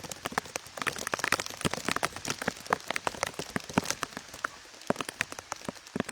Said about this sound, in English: Here it is raining, awesome weather for the workout.